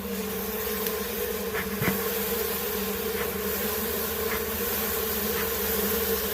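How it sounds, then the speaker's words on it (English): A steady, dense buzz of honeybees swarming around a hive being worked with smoke, a continuous droning hum close to the mic with faint passing pitch shifts as individual bees fly by, and no talking. "So right now I'm going to get the bees to fly"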